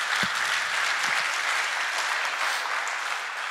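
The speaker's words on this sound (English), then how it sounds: "I want to give a round of applause for you" Sustained audience applause at the POLYCON18 conference, a dense, steady wash of many hands clapping at even loudness throughout, with no voices over it.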